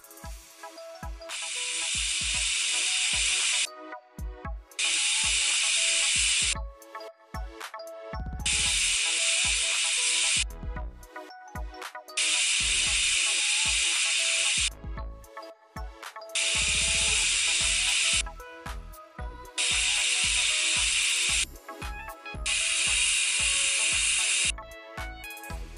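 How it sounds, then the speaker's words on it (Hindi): Pressure cooker cooking mutton korma, its whistle hissing out in six or seven long, loud bursts of steam separated by short pauses, with quieter rattling in between. "इसमें हमें 7 से 8 सीटियाँ आने तक इसको पकाना है।"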